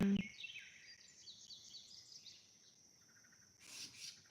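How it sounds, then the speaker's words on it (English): A small bird sings a high, warbling song at a distance, quiet and continuous over faint background noise, with a short burst of chirping near the end. "Y'all hear the bird?"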